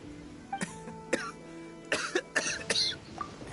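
A character in Genshin Impact coughs repeatedly, with several short harsh bursts and some throat clearing at irregular intervals over a quiet background of soft tones.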